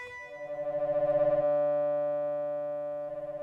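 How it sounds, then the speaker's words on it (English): A harmonic-rich digital oscillator tone on a Korg Minilogue XD synthesizer sustains steadily, its shape modulated into a fast wobble at first, then holding smooth before the pulsing returns near the end. "I'm modulating the shape of that digital oscillator sine 3, which has got loads of harmonics"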